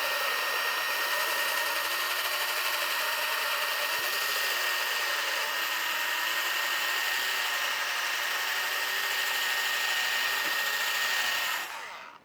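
Steady, loud whine of a power sander working a pad across an F150 headlight lens, holding a constant pitch for about eleven seconds before stopping abruptly.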